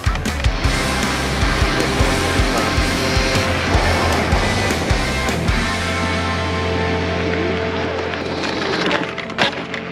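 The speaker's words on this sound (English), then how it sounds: "trying to see if I can tighten these up a little bit more and get rid of that creakiness" Stem of a Kaabo Wolf Warrior X electric scooter creaking and splintering as it is worked back and forth: dense, continuous crackling creaks at close range, steady loudness throughout, with no talk.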